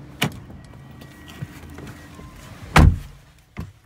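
A Mercedes-Benz car door thuds shut with a solid clunk near the end as the driver gets in, preceded by a few softer clicks and handling sounds in a quiet setting.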